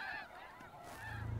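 Snow geese honk in a field during a hunt, a brief burst of overlapping nasal calls that sound moderately distant and fairly faint.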